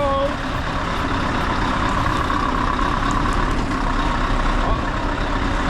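A Scania V8 truck reverses with its engine rumbling steadily at close range, a few faint beeps and hisses over the noise, while a person talks nearby.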